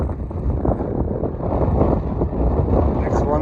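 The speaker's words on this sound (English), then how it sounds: "it's a windy one over here at the top of Meal Fell" Strong wind blows across the exposed summit of Meal Fell, a hill in the Lake District, buffeting the microphone with a loud, continuous, gusty rumble.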